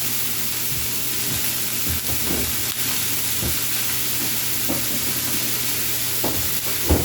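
Onions and mushrooms simmer in a pan beside a coffee-rubbed T-bone, giving a steady close sizzle with soft intermittent stirring and clinks, no one talking.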